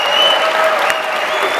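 Audience applause for the Bankless team hosts at a crypto conference, a dense steady burst of many hands clapping at once, loud and close, with no voices over it.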